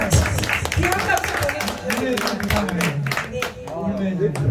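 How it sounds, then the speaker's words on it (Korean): Audience clapping crackles steadily through a small live song performance, with a voice talking over it. "귀한 박수. 귀한 박수"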